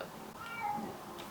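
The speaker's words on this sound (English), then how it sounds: "I don't know if you can hear my cat meowing, but it's quite annoying." A house cat meows once indoors, a drawn-out tonal cry at moderate distance, with faint room hum behind it and no speech.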